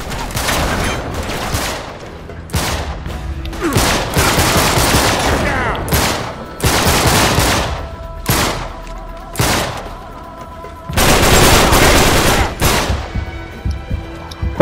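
Loud bursts of gunfire from the video game Uncharted 3: Drake's Deception, with repeated sharp shots and rapid volleys coming in clusters and separated by short gaps across the whole stretch.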